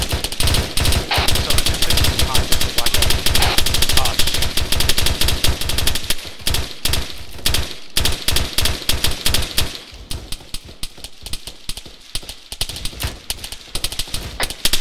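Machine guns fire in ARMA 3 as rapid, loud bursts that run almost without pause, then thin into sparser, more distant rattling volleys.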